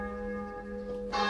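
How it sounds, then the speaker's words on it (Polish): Church bells ring with a steady sustained tone and a brighter strike near the end, moderately loud during a staged folk nativity performance, with no talk. "Słyszy ta? Dzwonów w srebrnych turlikanie."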